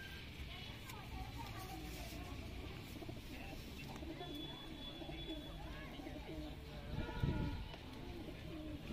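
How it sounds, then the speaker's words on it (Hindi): Old golden kamagar breed pigeons coo repeatedly in soft, rolling calls, close and steady, while people talk throughout, with a brief louder rustle near the end. "काफ़ी अच्छा कबूतर है पुराना गोल्डन कमांगर।"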